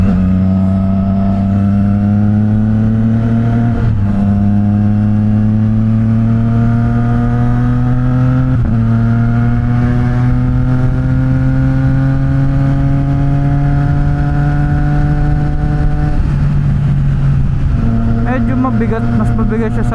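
A Triumph Trident 660 motorcycle drones loudly at speed on a midnight road run, heard from a helmet-mounted camera, its exhaust note holding steady and climbing through the gears, with brief dips at each shift and constant wind rush.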